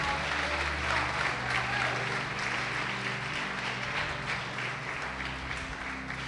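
A church congregation applauds steadily throughout, a dense wash of many hands clapping at moderate volume with no pauses.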